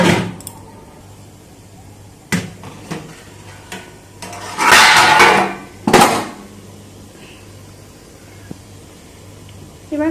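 A lid is set onto a pot of steaming palm-fruit pitha on a water pot: sharp metallic clanks and a loud clattering burst near the middle, followed by another knock, in an otherwise quiet kitchen.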